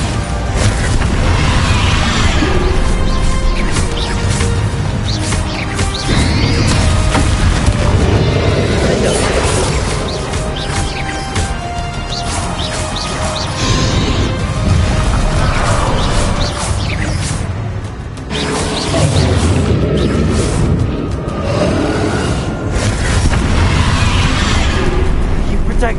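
Bombarda spell blasts in the Hogwarts Legacy video game set off repeated heavy booms and crashes in dense, loud combat noise, with a person talking over them.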